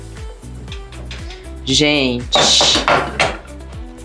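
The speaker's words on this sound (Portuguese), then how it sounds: "E aí vamos abrir essa panela." Pressure cooker lid being handled and opened after the pressure is released in a home kitchen, metallic clanks and knocks from pot and lid, a brief hiss, and someone talking over it.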